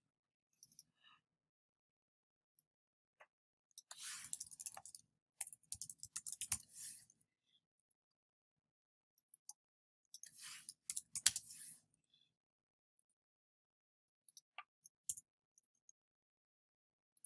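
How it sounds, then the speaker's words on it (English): Typing on a computer keyboard gives faint, scattered clicks, some in quick flurries and others isolated, over near silence with long gaps between bursts. "I'm just typing a CU in here and then asking for help."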